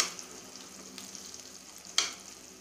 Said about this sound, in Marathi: आता दुसऱ्या बाजूनेही छान अशाच पद्धतीने फ्राय करून घेऊया।